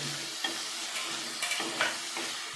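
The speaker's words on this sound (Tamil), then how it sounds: "எண்ணெயிலேயே கொஞ்சம் வதங்கி வரட்டும்" Ivy gourd sauteing in oil, a steady hiss of frying with repeated scraping stirs of a spoon through the pan.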